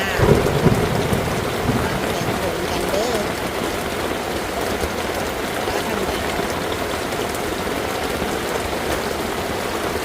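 Heavy rain pounds steadily on a taut fabric rooftop tent nearby, a dense continuous drumming with no pauses.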